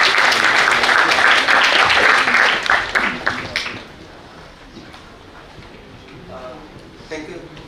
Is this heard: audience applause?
yes